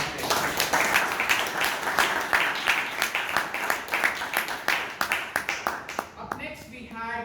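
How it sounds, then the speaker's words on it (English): Audience clapping at a Toastmasters meeting, a dense burst of applause from a room of people that continues strongly before tapering off, with a voice coming in over the end. "A round of applause."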